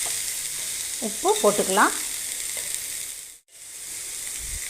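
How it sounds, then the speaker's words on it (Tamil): Beans stir-frying over a low flame, a soft continuous sizzle and hiss from the pan while a person speaks briefly over it. "அடுப்பை சிம்மில் வச்சுட்டு கிளறிட்டே இருந்தோம்னா காய் வெந்துடும்."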